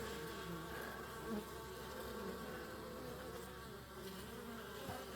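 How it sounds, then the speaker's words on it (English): Honey bees buzz around a hive entrance in autumn, a steady dense drone of many insects close by with no talk. "Those bees are still trying to get in there."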